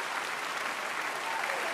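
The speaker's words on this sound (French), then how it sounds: "Ils sont à toi, ces applaudissements." A standing audience applauds after a violin performance on a televised talent show final, dense steady clapping filling a large hall, brief and uninterrupted.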